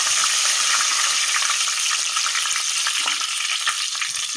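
Curry leaves crackle and sizzle in hot coconut oil in a pan, a steady bright hiss with sharp popping spatters, close and fairly loud with no talking.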